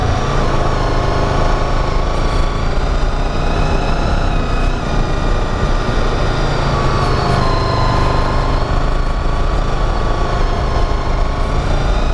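Honda VFR motorcycle engine braking while descending a steep mountain pass, a steady droning engine note with continuous wind and road rumble, no speech over it.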